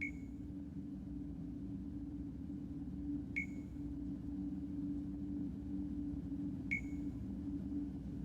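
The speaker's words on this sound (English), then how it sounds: "It's beeping." A box in the video game Dreamfall Chapters gives three evenly spaced short electronic beeps, about three seconds apart, over a steady low ambient hum with no talking.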